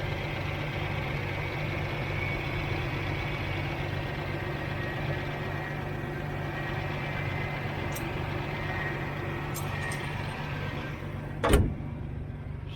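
An old car engine, just started after gas was poured into the carburetor, idles steadily with an even low hum and rough mechanical texture, a single sharp click breaking in near the end.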